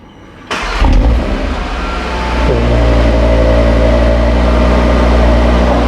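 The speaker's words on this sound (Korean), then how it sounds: "첫 시동 한번 걸어보시죠." An Audi RS3 facelift fires up for the first time with a sudden loud roar and brief flare of revs, then settles into a deep, steady, close idle.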